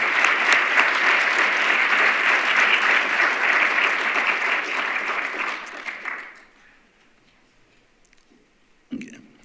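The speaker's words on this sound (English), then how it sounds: "take a moment to give a round of applause to all of our presenters today." Conference audience at an annual African-American history and culture event in Nashville applauds presenters, a dense, loud round of clapping for about six seconds that fades out, followed by quiet and a brief noise near the end.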